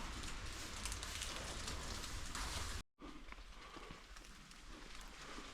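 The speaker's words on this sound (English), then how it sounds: "Rain's coming down at the moment." Steady rain pattering on the Coast to Coast walk between St Bees and Ennerdale, a dense hiss of drops on surfaces, continuous apart from a brief cut partway through.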